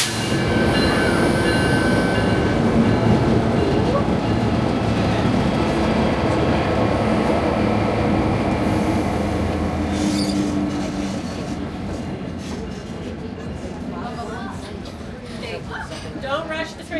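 White Pass railroad train in Skagway, Alaska, rumbling loudly and steadily with dense wheel and car noise and occasional squeals, easing slightly toward the end, with people talking over it.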